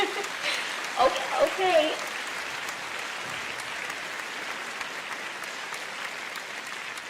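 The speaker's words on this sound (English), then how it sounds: "Give him a big round of applause, guys." Sustained audience applause fills the room, a dense, even wash of clapping that swells briefly early on, with a voice speaking over it at the start.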